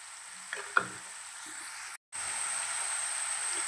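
Soursop and tomato fry in a pan with a soft, steady sizzle, broken early by a couple of scraping stirs and a brief dropout before the hiss resumes.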